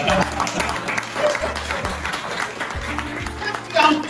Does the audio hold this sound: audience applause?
yes